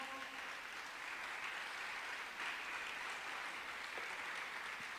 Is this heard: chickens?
no